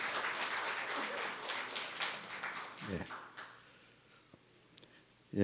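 An audience at a forum applauds, a dense crowd patter that is fairly faint and fades out after a few seconds, with a voice briefly heard over it.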